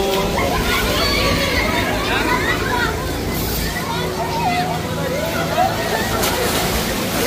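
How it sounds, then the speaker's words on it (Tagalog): Waves surge and slosh continuously in a crowded beach resort wave pool in Puerto Azul, Cavite, a loud steady wash of water under a busy din of many voices, shouts and a nearby speaker. "Ito yung wave pool nila."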